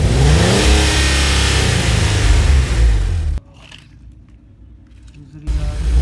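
Toy car motor revving loudly with a buzzing, harmonic whine as the vehicle jumps, then cutting abruptly to near quiet for about two seconds before the motor noise picks up again.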